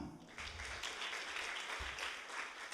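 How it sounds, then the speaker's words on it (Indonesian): A church congregation applauds during a sermon, a steady, dense wash of clapping heard from some distance that carries on evenly throughout. "Kita beri tepuk tangan."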